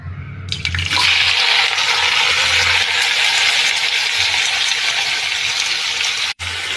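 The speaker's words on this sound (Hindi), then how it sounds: "अब मैं इसमें डाल रही हूँ आलू" Raw potatoes dropped into hot oil tempered with spices in a home kitchen set off a loud, steady, broadband sizzle, sustained throughout with a brief dip near the end.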